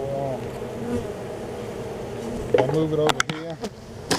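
Honeybees living in a wooden bird house buzz densely and close by, a continuous droning hum, while someone talks over it.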